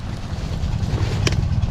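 Wind gusting across a microphone by a roadside fishing spot, a low buffeting rumble throughout with a brief bright crackle near the end.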